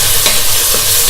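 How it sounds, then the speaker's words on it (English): Onion stirred in hot oil left from frying meat for a black-eyed bean stew, a loud close sizzle with scraping stirring sounds over about a second, no voices. "I'm going to pour it in the oil that I was frying the meat, and then just stir it"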